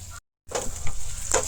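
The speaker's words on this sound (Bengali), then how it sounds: "এটা কাঁঠাল বেশি পেস্ট বানাইয়ে রাখলাম, এটা ঘির মধ্যে দিলাম" Jackfruit seed paste sizzles in hot ghee in a kadai, a close hissing crackle that starts after a brief cut of silence and continues with small bursts as it is stirred.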